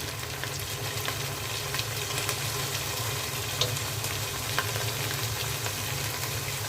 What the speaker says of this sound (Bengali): মাংসের মধ্যে দিয়ে দিচ্ছি আদা রসুনের পেস্ট ধনিয়া ফাটিয়ে